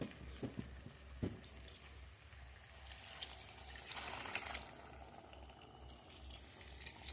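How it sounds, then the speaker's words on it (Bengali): Hot water poured into a pot of braised chicken curry on a gas stove, a soft continuous trickle and splash that swells midway, fairly faint and close with no talking. "আমি এবার এর মধ্যে গরম জল দিয়ে দেবো।"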